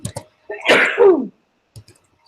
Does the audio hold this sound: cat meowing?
no